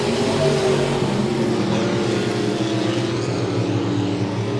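Dirt track race cars roar around the oval at Monett Motor Speedway during a heat race, a dense, steady engine drone with layered revving from several cars at once, loud and continuous throughout.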